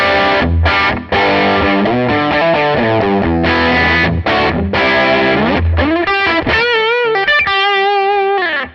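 An electric guitar is played through British amp modelling captures, giving heavily distorted chords and sustained notes, then a run of bent single-note lead phrases, loud and alone with no voices.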